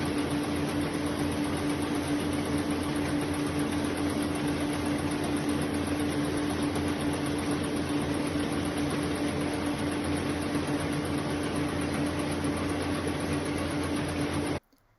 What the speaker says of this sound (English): From here it goes into the condenser, which separates it into 40 individual strips of wool.